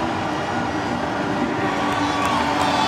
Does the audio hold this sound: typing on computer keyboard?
no